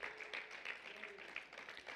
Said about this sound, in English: let's clap our hands tonight.